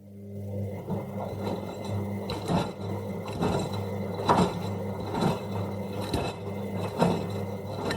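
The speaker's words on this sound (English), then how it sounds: "That's a washing machine." A washing machine running, with a steady low mechanical hum and repeated thumps and clunks at a regular rhythm, loud and close, with no talk.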